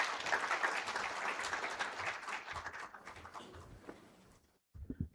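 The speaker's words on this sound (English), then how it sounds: "Let's applaud him as he comes forward." Audience applause at a health summit as a speaker comes forward, a full crowd clapping that thins out and fades before a short silence and a few thumps.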